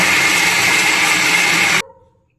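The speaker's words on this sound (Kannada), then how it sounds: "ಇವಾಗ ಮಿಕ್ಸಿಯಲ್ಲಿ ಹಾಕಿದ್ದೀನೆಲ್ಲ" A kitchen mixer grinder blends coconut, green chilli and salt into chutney with a loud, steady whirring roar that cuts off abruptly near the end, leaving a brief fading rattle and then quiet.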